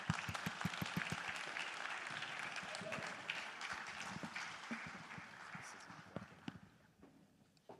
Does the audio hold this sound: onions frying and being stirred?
no